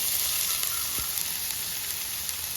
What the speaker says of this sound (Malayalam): എണ്ണ നന്നായിട്ട് ചൂടായിട്ടുണ്ട് നമുക്കതിലേക്ക് നമ്മുടെ സവോള ഇട്ട് കൊടുക്കാം